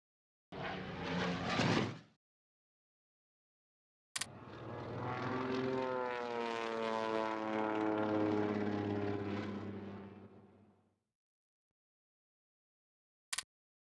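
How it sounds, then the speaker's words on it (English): Tactical bombers in the strategy game Hearts of Iron III fly over with a smooth propeller-engine drone that swells and fades over several seconds, after a short earlier engine burst, with silence between and no talking. "I need to take some of these tactical bombers back."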